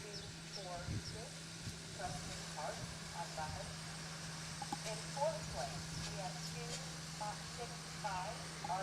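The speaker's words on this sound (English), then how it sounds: "And again, you can hear the tractor going by." A tractor passes at an evening horse show with a grandstand, its low engine rumble steady and faint in the distance beneath a man's continuous announcing over a loudspeaker.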